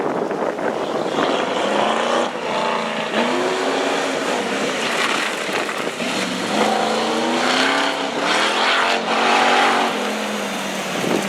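A Firebird race car climbs a hill climb course, its engine loud and continuous, rising and falling in pitch through gear changes and throttle, with occasional tire squeal.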